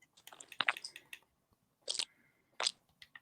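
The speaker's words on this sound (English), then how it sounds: "Sounds like he's gulping on his mic." Wet gulping and mouth noises sit right against a podcast guest's microphone, coming in three short, crackly bursts separated by near silence.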